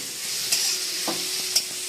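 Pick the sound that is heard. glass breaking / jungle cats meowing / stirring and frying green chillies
stirring and frying green chillies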